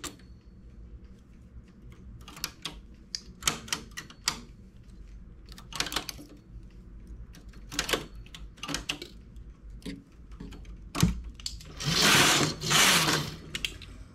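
A domestic knitting machine carriage works stitches, several needles done three times on the same needle, giving sharp mechanical clacks and slides in irregular bursts, ending in a louder sustained rasping pass.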